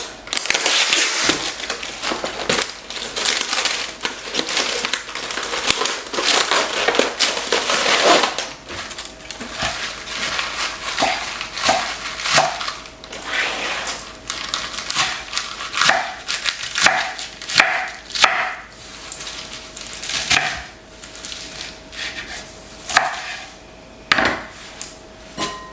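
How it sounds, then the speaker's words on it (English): Knife chopping lettuce and slicing cucumber on a board, a long run of crisp crunching cuts, first dense and rapid, then separate sharp chops at an uneven pace, close and clear. "I'm gonna go ahead and cut up some lettuce"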